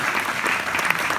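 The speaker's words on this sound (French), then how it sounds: "On peut les applaudir également." A festival audience breaks into a short, dense burst of clapping, fairly loud and without any voices over it.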